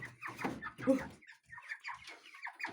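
Broiler chickens cluck in short, close bursts from inside a cage, loud and alone without talk.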